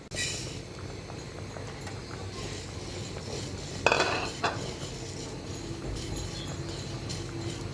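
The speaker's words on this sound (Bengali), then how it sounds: "এক কাপ পরিমাণ মুগ ডাল নিয়েছি এটাকে ভেজে নিব এখন" Mung dal dry-fries in a pan while a utensil stirs it, making steady scraping and rattling clinks over a light sizzle, with a sharper clatter midway and no speech.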